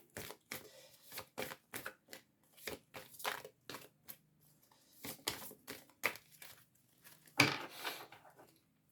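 Tarot cards shuffled by hand for a reading, a series of close, crisp papery riffles and slaps in irregular short bursts, with no talking.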